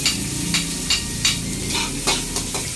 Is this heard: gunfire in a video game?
no